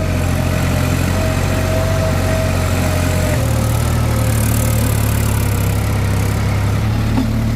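New Holland TT3.50 tractor engine pulling three logs in high gear, a steady loud low diesel drone with a slight shift in pitch partway through, no talk.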